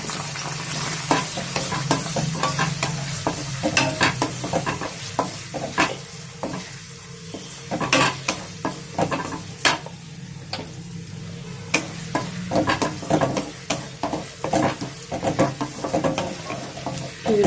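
Onions, green chillies and curry leaves frying in hot oil, crackling and sizzling loudly up close with sharp spits and pops and repeated scraping stirs throughout, without speech.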